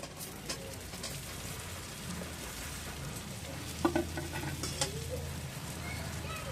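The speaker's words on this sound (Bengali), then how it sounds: "এরপর দিয়ে দিচ্ছি চুষি পিঠাগুলো।" Chushi pitha frying in a pan with cumin and chili crackle with a soft, faint sizzle, joined by a few stirring knocks and one brief clatter midway.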